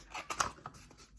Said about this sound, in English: I'm going to cut this tube in half with my big scissors